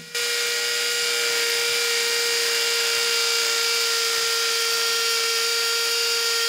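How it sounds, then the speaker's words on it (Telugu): A CAZAR 21V 4Ah cordless drill with a 10 mm bit bores into a concrete and cement wall, giving a steady, loud, high-pitched whine with a constant tone that runs unbroken for several seconds, close by with no talking. "సో ఇప్పుడు డైరెక్ట్గా నేను వాల్కి అయితే డ్రిల్ చేస్తున్నాను చూడొచ్చు."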